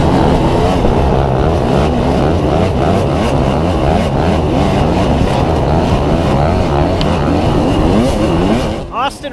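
A dirt bike ridden hard at Croom screams through repeated rapid revs, a loud, close, warbling engine note that rises and falls continuously before cutting off at the end.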